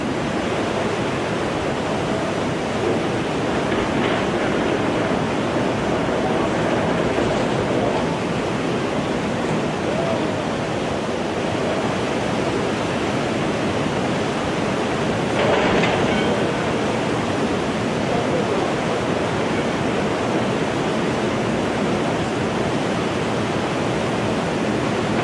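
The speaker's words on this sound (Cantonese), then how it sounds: "停泊喺海邊嘅車輛無一幸免，隨住巨浪捲入內陸。" Tsunami waves sweeping inland in Sendai after the magnitude 9 Japan earthquake, a continuous broad rushing roar of churning water with occasional louder surges, sustained and distant-sounding.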